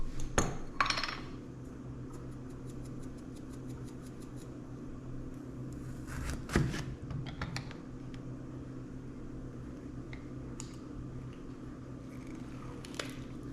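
Greek yogurt, cucumber, olive oil, lemon juice and dill are stirred together in a bowl, giving soft wet squishing and occasional spoon clinks against the side, quiet and close.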